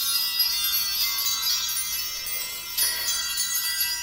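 Bells ring steadily before a tarot reading, a bright shimmering wash of overlapping high tones that sustains throughout, with a fresh strike swelling the ringing near the end.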